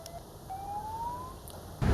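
A single rising siren tone from an ambulance in Palembang, one misused to carry wedding gifts, sweeps slowly upward for about a second at moderate distance under steady background rumble, with a louder thump at the end.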